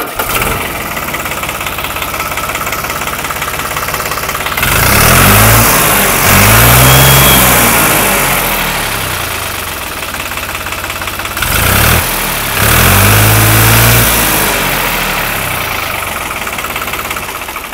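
A New Holland 3630 tractor in showroom condition runs at a steady idle and is revved hard twice. Each loud surge of engine noise rises and then settles back to a low rumble, and no one speaks.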